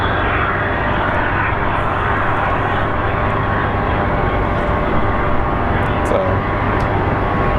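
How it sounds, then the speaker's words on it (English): A six-year-old Delta Airlines Airbus A321 on final approach to Phoenix Sky Harbor, its jet engines producing a loud, continuous broadband roar that holds steady throughout. "We have Delta Airlines 533 coming from Atlanta. It's a 6-year-old A321."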